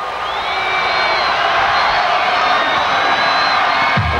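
Stadium crowd at a 1991 high school Class 5A state football championship roaring steadily during a goal line stand, a dense, loud wash of cheering with whoops and shouts throughout.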